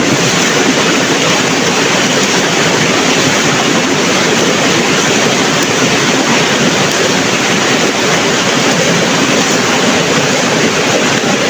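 Rushing water pours loudly and continuously around a traditional fish and crab trap, a dense, even roar that holds steady and close throughout.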